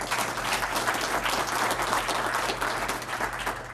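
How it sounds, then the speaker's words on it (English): Dense audience applause for event sponsors at a community gathering, a loud continuous wash of many hands clapping at once, sustained without a break. "Let's be sure to give them a round of applause."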